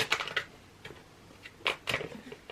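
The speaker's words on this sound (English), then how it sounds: "I'll give it another couple of shuffles" Tarot cards are shuffled by hand in a few short, close riffling bursts with light papery slaps and quiet gaps between them.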